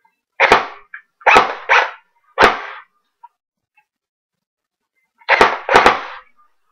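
Airsoft AK-47 rifle fired on semi-auto: sharp single close pops, three spaced shots then a pause and two more, with quiet gaps between.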